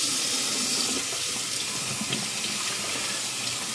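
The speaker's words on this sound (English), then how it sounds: "let me rinse this" A water tap runs steadily into a sink while a Thiers-Issard straight razor is rinsed, giving a continuous close, even splashing rush with faint clinks and no speech.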